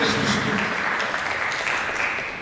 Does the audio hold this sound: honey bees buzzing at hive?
no